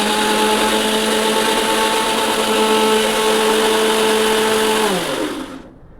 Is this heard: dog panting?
no